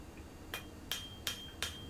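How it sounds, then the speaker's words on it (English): A hammer thins the cutting edge of a medieval-style folding knife, striking four sharp, ringing metallic blows at a steady, moderate pace, close and fairly faint against a quiet workshop. "Got the hammer angled slightly, just thinning that cutting edge out."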